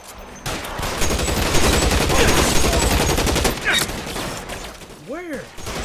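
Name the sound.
gunfire in the video game LA Noire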